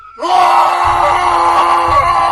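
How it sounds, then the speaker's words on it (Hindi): A woman screams in fear for a horror story, one loud sustained shriek starting abruptly and held steadily for about two seconds, alone without talk. "डर के मारे चीख पड़ी और वहां से अपनी जान बचाकर अपने गांव की तरफ भागी"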